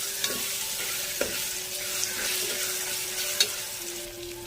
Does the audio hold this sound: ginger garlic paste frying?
yes